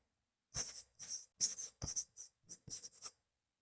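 Chalk or marker strokes on a board during a trigonometry lesson, a series of short scratchy bursts in quick irregular rhythm, close and clear with no talk.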